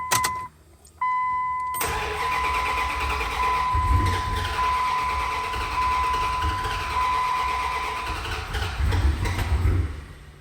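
A truck that fluttered and died after being given gas and now struggles to start: a warning chime tone, then a loud engine crank and rough rumble churning unevenly close by.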